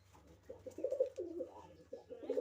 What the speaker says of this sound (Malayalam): പ്രാവ്